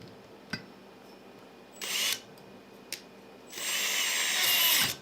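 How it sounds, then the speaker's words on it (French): An electric drill runs in short bursts while lapping valves on a Nissan 350Z engine: a brief whir, a couple of clicks, then a longer sustained high-pitched spin close by. "je viens mettre ma perceuse dessus"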